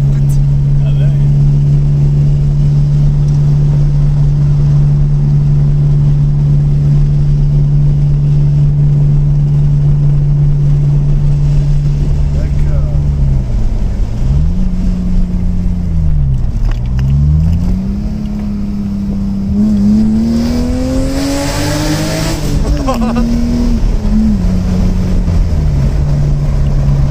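A BMW M3 E36 engine drones loudly and steadily while the car drifts on a road, then its revs dip and surge in several swooping rises and falls.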